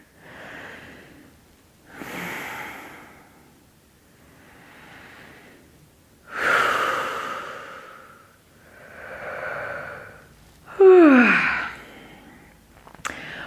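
Mouth breathing during a yoga exercise: a series of slow inhales and exhales, close and soft, spaced every couple of seconds, with one sharper, louder breath near the end.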